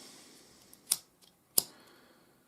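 Scissors cut off excess paracord from a cobra weave bracelet, two crisp, quiet snips spaced apart, with a faint click between them.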